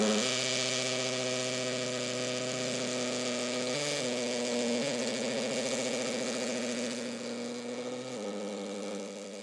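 Cordless 18 V hammer drill boring into a concrete block, a steady loud buzzing grind with a strong motor tone that shifts pitch briefly a few times and eases slightly near the end, heard close and alone.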